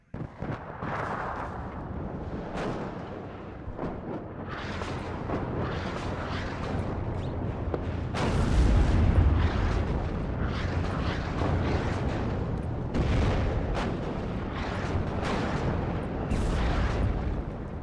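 Artillery in the WARNO strategy game fires round after round, repeated booming blasts and crackling impacts at irregular intervals over a continuous battlefield rumble, loud throughout.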